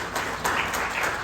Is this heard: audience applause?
yes